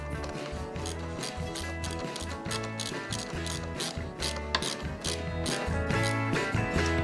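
Ratchet wrench snugging down the negative battery terminal on a 2019 Jeep Compass 2.4L four-cylinder, a fast run of close, dense clicking strokes that continues steadily without pause.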